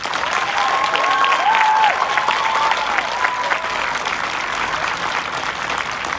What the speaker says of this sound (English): I want everyone to give a very large round of applause to Sam Bell.